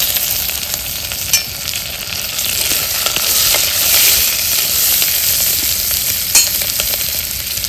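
Tomatoes, coriander and chili powder frying in a pan over a village wood fire, a loud continuous sizzle and hiss with occasional stirring scrapes and crackles close by.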